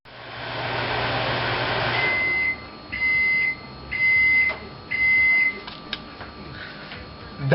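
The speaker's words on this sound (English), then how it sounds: "I'm gonna pop in the microwave, y'all." A steady microwave oven hum runs throughout, followed by three evenly spaced electronic beeps and a few faint clicks, with no talking.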